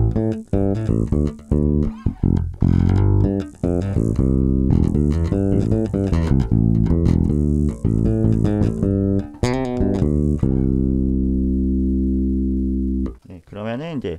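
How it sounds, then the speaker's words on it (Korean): Close, continuous phrase on a Cort Elrick NJS4 bass guitar using the active rear pickup: plucked notes with a tighter, brighter attack, played steadily before settling into a long sustained note that fades out. "그리고 액티브 뒷픽업 소리입니다."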